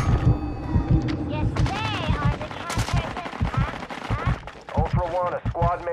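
Rapid bursts of video game gunfire thump repeatedly and loudly, mixed with voiced radio-style callouts and chatter throughout.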